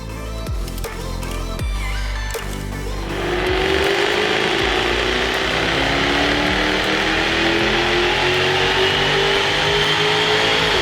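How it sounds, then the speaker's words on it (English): A Jaguar F-Type R V8 on a dyno idles with ratcheting mechanical clatter, then climbs into a loud, sustained rev with rising pitch that keeps building to the end. The sound is close and continuous, with no talking. "today on our dyno we've got this Jaguar F-Type R V8 in for an upper pulley, remap and dyno"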